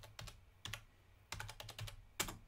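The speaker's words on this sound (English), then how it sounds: "Now let's type in TiddlyWiki" Keys clatter on a computer keyboard as a search term is entered, a quiet close-up run of about a dozen quick clicks in small irregular bunches with brief pauses, no voice over them.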